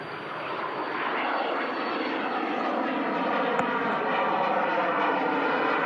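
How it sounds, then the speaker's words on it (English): A Platoon Aviation aircraft departs Manchester Airport for Dortmund with a continuous jet engine roar, moderately distant and steady, swelling slightly toward the end, with no voices over it. "Platoon Aviation heading out to Dortmund"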